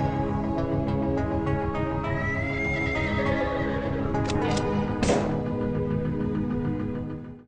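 A horse whinnies loudly and repeatedly over a steady rumbling background, with a sharp burst near the end before the sound fades out.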